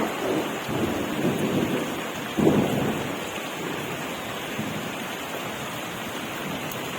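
Heavy rain pouring steadily with rumbling thunder rolling in and out, one stronger clap partway through, no voices.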